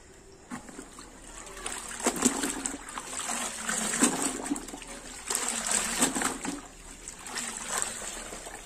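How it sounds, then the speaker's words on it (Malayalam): A silk saree is swished and rinsed in a bucket of water, giving repeated bursts of sloshing and splashing that rise and fall at close range. "വേറൊരു ബക്കറ്റിൽ ഞാനിവിടെ വെള്ളം എടുത്തു വെച്ചിട്ടുണ്ട്. ഇനി അതിലേക്ക് കൂടെ നമുക്ക് ഇതുപോലെ ഒന്ന് ലാച്ചി എടുക്കാം."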